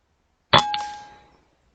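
A single pellet from a Kral Puncher air rifle strikes a metal target with a sharp clang and a short ringing ding that fades within a second, heard alone.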